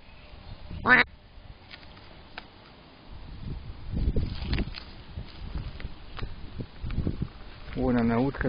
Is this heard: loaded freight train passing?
no